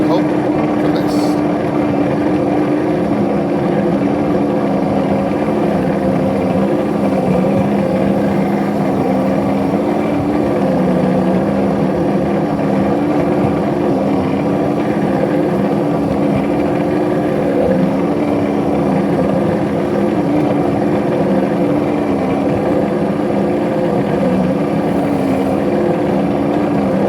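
A locomotive engine running at full throttle while pushing a snow plow uphill in a snowstorm, with no second engine. It gives a steady, loud, continuous drone and rumble that holds for the whole stretch, with speech heard over it.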